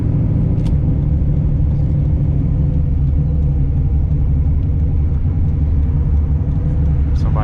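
A 1994 Mustang Cobra with a T5 manual transmission pulls hard, its V8 rumbling loud and deep through a long continuous stretch, heard from inside the car with no speech.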